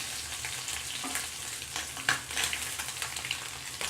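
Anchovies sizzle and crackle steadily in hot oil in a frying pan, with occasional scrapes and taps as the small fish are turned over.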